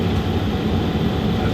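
A newly installed furnace's variable speed blower motor in a new construction home runs with a loud, steady low rumbling drone that holds constant throughout, with no talking.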